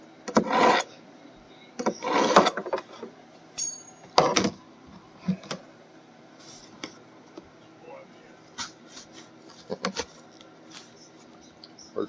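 A knife drawn through a SHARPAL 101N 6-in-1 knife sharpener, making several short raspy scraping strokes in quick bursts, with quieter clicks and handling noises between them.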